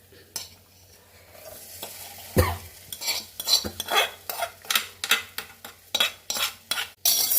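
Spoon stirring asafoetida powder into a mango pickle, producing a run of sharp, fairly close scraping and clinking strokes in a steady rhythm with a low sizzle underneath.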